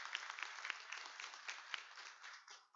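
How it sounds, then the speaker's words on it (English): Audience applause at a police union public safety forum in Seattle, a steady crowd clapping for a District 5 candidate, dense and continuous with a couple of sharper claps standing out, no voices over it. "a round of applause"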